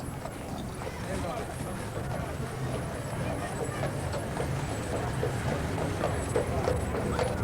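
Steady clip-clop of a carriage horse's hooves on pavement climbing a hill during a St Albans carnival parade in 1986, amid outdoor crowd noise and chatter, a rhythmic trotting that continues throughout.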